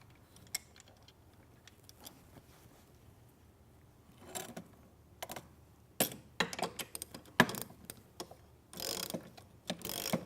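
A socket wrench ratchets as it tightens a bolt on a Studio Reformer bracket with wooden risers, giving close, quiet clicking in short bursts separated by pauses, with faster ratcheting runs near the end.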